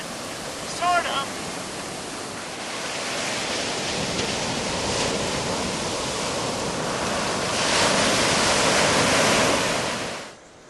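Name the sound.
Atlantic Ocean waves, tide coming in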